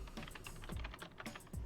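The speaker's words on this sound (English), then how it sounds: "Not even typing that loud." Typing on a computer keyboard, rapid close clicks and clacks in an irregular burst, with no talk over them.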